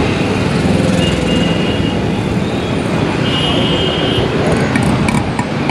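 Dense city traffic rumbles and hisses continuously around a rider on an electric scooter, with passing vehicles and faint high tones in a loud, steady roadway din.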